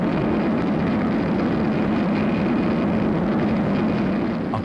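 Thrust 2 jet-powered land speed car beginning its run, a dense steady roaring rush of jet noise that stays loud and constant throughout, with a faint high whine riding on top.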